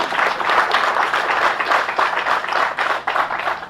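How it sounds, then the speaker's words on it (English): An audience claps at a college induction day, loud and close, a thick, sustained patter of many hands with slight swells and a brief dip near the end. "I think we need to clap loudly."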